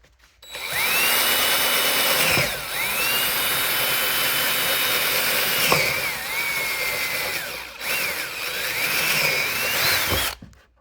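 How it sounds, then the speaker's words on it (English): Power drill boring through a car's front bumper from underneath with a 5/16 bit, Mercedes-Benz E55 AMG W211, during a lip installation; a close, loud, steady whine in several sustained bursts with brief pauses and pitch shifts. "Underneath the car, got a drill, and I'm using a 5/16 drill bit"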